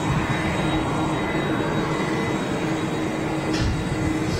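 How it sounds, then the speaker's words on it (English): A KLM Boeing 737 taxiing at Schiphol airport, a steady loud jet engine roar and whine that stays constant throughout, heard from an outdoor viewing terrace. "KLM 737 possibly coming into this gate here."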